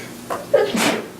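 A single sharp sneeze bursts out at close range, a brief explosive breath with a short vocal edge.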